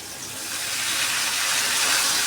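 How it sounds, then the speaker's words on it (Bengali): Water pouring into a pan of vegetables being cooked with a little turmeric, a steady broadband rush swelling slightly louder over a couple of seconds, close and continuous with no talk. "আর দেবো একটু জল"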